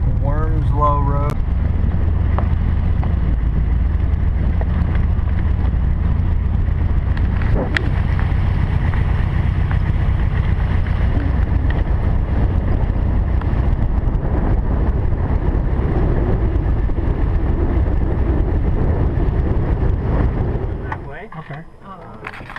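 A car drives down Wormsloe Road in Georgia, a long avenue lined with trees, giving a steady, loud rumble and wind buffeting that continues almost unbroken before easing off at the very end.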